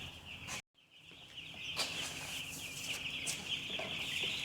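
Baby chicks peeping in a brooder: a dense, continuous chorus of high, thin peeps, close and steady throughout, broken by one brief moment of silence near the start, with no talk.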